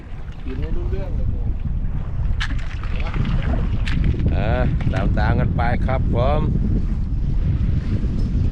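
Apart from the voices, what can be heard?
wind blowing into the microphone outdoors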